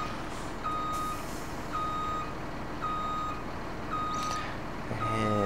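In the video game Farming Simulator 17, a long lorry reverses, its warning beeper sounding in evenly spaced single beeps over a steady engine rumble, with a brief hiss near the end.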